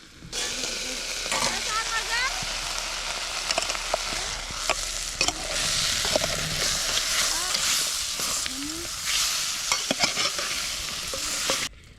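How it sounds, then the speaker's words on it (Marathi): Ground curry paste fries in hot oil in a pan by a riverside, a loud continuous sizzle broken by frequent stirring scrapes and clinks. "आपण उतरवून घेऊया आणि कालवण टाकूया तेलावर"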